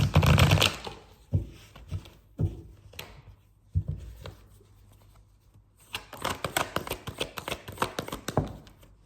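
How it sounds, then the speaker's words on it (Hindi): Tarot cards being shuffled by hand, soft papery riffles and taps in irregular bursts, with a denser run of quick shuffling near the end, close and fairly quiet. "let me shuffle one more time."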